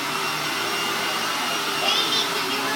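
A household vacuum cleaner runs steadily and close by, a continuous broadband whine with a brief rise in pitch near the end, heard alone without voices.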